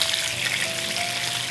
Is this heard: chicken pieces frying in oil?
yes